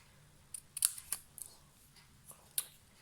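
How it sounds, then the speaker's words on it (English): Scissors trimming paper card for a handmade stamped greeting card, a few quiet, close, crisp snips spaced irregularly over a hushed background. "All I need to do now is trim it down"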